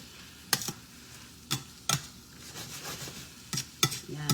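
Zucchini spaghetti cooks in a pan, with a faint sizzle under sharp utensil scrapes and clinks against the pan at irregular intervals, close by and without talk.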